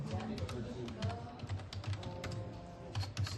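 Rapid keystrokes on a computer keyboard as a command is typed into a new terminal window, irregular clicks close up over a low background hum.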